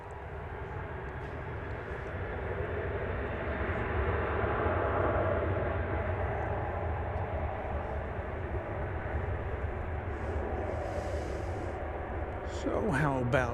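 Jet airliner taking off at DFW Airport, a loud steady roar of engine noise filling the whole stretch, with a brief higher chirp near the end.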